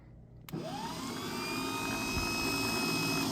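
A 1970s VW sand rail engine cranks over without catching, the starter whirring steadily and loudly for about three seconds after a sudden onset, with no firing heard.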